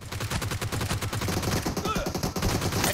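Rapid automatic gunfire from a machine gun in the mobile battle-royale game PUBG Mobile, a dense, continuous burst of shots at close range lasting the whole stretch, with faint game noise underneath.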